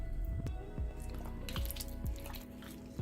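Raw chicken is squished and kneaded by hand with spices and ginger-garlic paste. Soft, wet squelching comes in a few distinct pulses, faint and close, with no voices.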